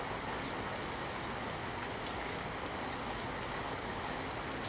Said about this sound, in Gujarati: પાલીતાણા શહેર અને આજુબાજુના ગ્રામ્ય વિસ્તારોમાં વરસાદી ઝાપટા